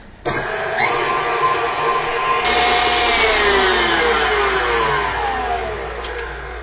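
A stand mixer beats pistachio macaron filling. Its motor whirs on abruptly, then settles into a loud, continuous whine with shifting tones, close and alone.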